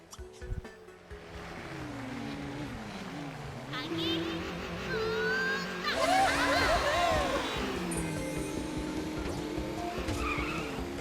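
Cartoon car drifting in MySims Racing, with a rising engine whine and sustained squealing tires sweeping up and down alongside game music and a voice talking.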